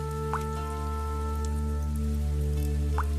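Rain effect from a Hindi audio drama, set in a dim room lit by one bulb, under a roof that leaks in every rain: steady rain hiss over a low hum, with two clear drips landing early and near the end.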